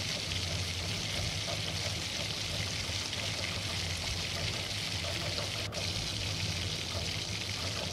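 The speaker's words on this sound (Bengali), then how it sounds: "তারপর দিয়ে দিলাম কেওড়ার জল, গোলাপ জল" Kewra water and rose water pour steadily into a pot of chicken biryani, giving a continuous close hiss and trickle that lasts several seconds, with a faint click near the end.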